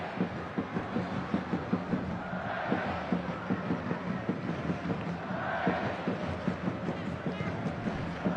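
A football stadium crowd at a Kawasaki Frontale versus Shimizu S-Pulse match chants a rhythmic, swelling olé as passes are strung together, while a commentator talks over the steady roar.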